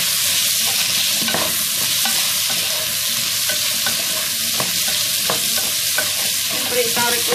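Homemade sambar with chili and sambar powder fries in a pan, a steady loud sizzle running throughout while a spoon stirs and scrapes with repeated sharp knocks against the pan; no one speaks.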